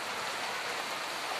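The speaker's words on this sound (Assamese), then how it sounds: "বৰষুণ দি আছে।" Heavy rain during a windy storm in Nagaon, Assam pours down in a dense, even hiss of drops on surfaces, constant and loud with no break.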